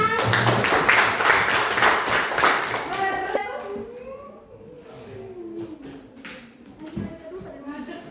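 A class of students in a high school Indonesian language lesson claps in a loud, dense burst for about three seconds, then it fades as a teacher starts speaking.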